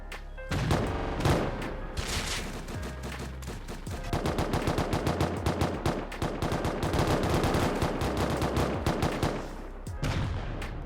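Relentless gunfire fills a raid in the console version of the video game Rust, with rapid automatic bursts and overlapping shots rattling almost nonstop, loud and close.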